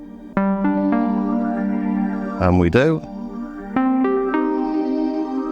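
Sustained Arturia PolyBrute synthesizer tones with a sweeping, swirling phaser effect, briefly interrupted by a short spoken phrase midway before the chords return.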